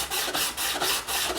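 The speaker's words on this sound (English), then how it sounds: "we're gonna just sand it like I did the bottom layer." Sandpaper rubbing back and forth over a painted wooden picture frame layer, a loud, close, rhythmic scratchy rasp in repeated strokes of about a third of a second each, with no voices.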